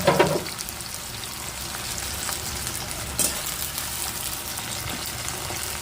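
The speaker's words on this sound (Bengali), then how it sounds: "চিকেনটা রান্না হচ্ছে তেলের সঙ্গে জিরে ধনে পেঁয়াজটা ভেজে নেওয়া হচ্ছে" Chicken sizzles steadily in hot oil with cumin, coriander, onion and bay leaf, opening with a brief clatter and crackle, then a constant soft frying hiss with an occasional click.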